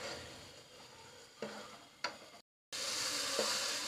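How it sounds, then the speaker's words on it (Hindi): Minced keema browning in a pan, a soft continuous sizzle broken by a couple of sharp stirring scrapes, then a short gap before the frying noise returns, brighter and steadier. "अब मैं इस क़ीमे की थोड़ी सी भुनाई कर लेती हूँ।"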